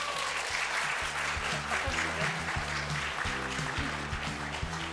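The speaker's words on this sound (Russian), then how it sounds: "Бурные аплодисменты." Steady, loud applause fills a hall at an annual company meeting, with many hands clapping continuously under low background music.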